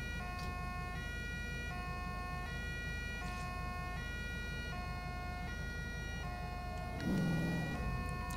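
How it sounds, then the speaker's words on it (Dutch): In the video game GTA 5, an ambulance siren cycles through a repeating two-tone wail at an even rhythm, steady and fairly loud, with a brief rumbling burst near the end. "Ambulance gaan met spoed naar het ziekenhuis"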